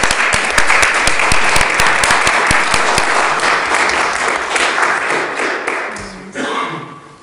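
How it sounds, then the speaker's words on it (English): A school board meeting audience breaks into sustained applause, loud and dense with sharp individual claps, fading out over the last second as the room settles. "I think this deserves applause."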